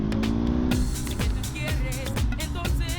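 Car engine on a newly paved mountain road in the western Asturian passes, a steady motor drone with pitch sweeps as it moves, heard under an excited commentator's voice throughout.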